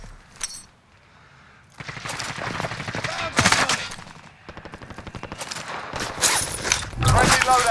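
Gunfire in the Call of Duty: Modern Warfare video game, with rapid automatic bursts and single shots building in intensity over several seconds, mixed with game audio and a voice talking.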